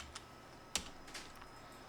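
A few sparse, quiet keystrokes on a computer keyboard entering text into a search bar, with one sharper click standing out against a faint background hum.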